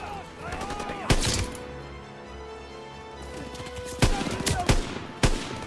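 Gunfire in Call of Duty: WWII cracks out in sharp, loud shots: a burst early, a pair near the end and one more just after, over game sounds and music with quiet stretches between.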